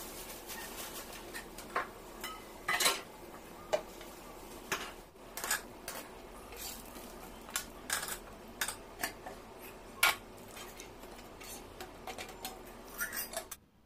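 Scattered sharp clinks and taps of dishes and utensils being put away while a kitchen is tidied and a dosa is cooking, irregular light knocks close by over a quiet background.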